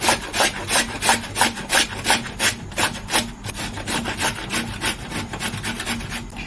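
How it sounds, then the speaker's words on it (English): Potatoes are rubbed against the coarse side of a grater in steady, rhythmic rasping strokes, loud and close with no talk. "grab your grater and do this. So I'm going to use this part, this coarse part over here to grate my potatoes."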